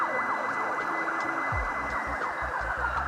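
An emergency vehicle siren, fire engine or police car, wails steadily on a Melbourne city street, sweeping up and down over loud traffic rumble and passing engine noise, with no talking.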